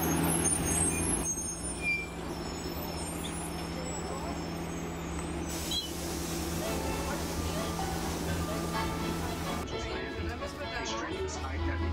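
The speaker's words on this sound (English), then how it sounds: "These little shuttle buses are there to help visitors see more of the park" Small park shuttle bus with air brakes, running steadily with a constant engine drone, a hiss of air brakes partway through, and a narrator talking over it throughout.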